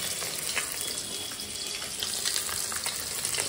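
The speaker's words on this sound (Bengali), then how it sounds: "এখন মাছ ভাজছে" Fish frying in a pan at a family Christmas picnic, a steady close hiss and sizzle of oil with no breaks.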